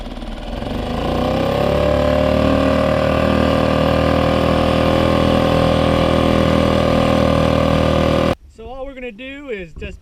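A boat's outboard motor runs steadily at trolling speed during a fishing outing, a loud continuous drone that cuts off near the end, followed by a person speaking.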